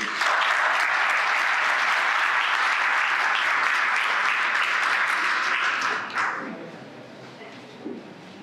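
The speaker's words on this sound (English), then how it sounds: "give them a round of applause" Loud, dense applause from a sizable audience rolls on for about six seconds, then drops off quickly, leaving a few scattered claps and room noise.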